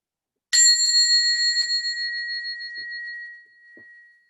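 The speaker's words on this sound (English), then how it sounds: "I'm going to ring the bell in a minute." A meditation bell struck once at the end of a mindfulness session, a bright ringing tone that sustains and slowly fades over several seconds in a quiet room, with a couple of faint soft sounds after.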